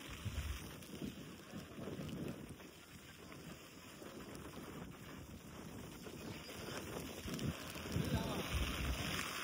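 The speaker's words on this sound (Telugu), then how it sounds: "వాన హెవీగా స్టార్ట్ అయిందిరా బాబు." Heavy rain pours steadily at a seaside spot in Goa, making a dense, low, even roar that swells slightly toward the end, with a muffled low rumble beneath it.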